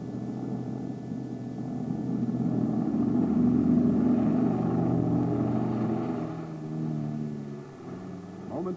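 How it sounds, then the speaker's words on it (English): The launch plane for a Ryan Firebee KDA-4 jet target drone climbs away to launch altitude, its steady engine drone swelling slightly mid-clip and then thinning as it recedes into the sky. "Moments later, the launch plane is a receding dot in the sky, climbing to launch altitude."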